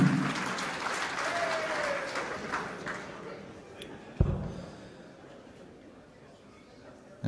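A crowd at a Saturday afternoon darts session at the German Darts Masters in Berlin applauds, a steady wash of clapping that fades gradually, with a sharp thud partway through.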